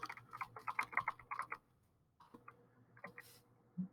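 Keys tap on a computer keyboard during CSS coding, in a quick burst of close, light clicks. A short pause follows, then a few more scattered keystrokes.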